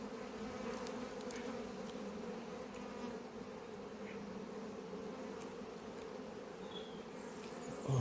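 Honey bees at an apiary hive give a steady, continuous buzzing hum that holds evenly throughout, with a few brief louder passes of individual bees close by and no voices.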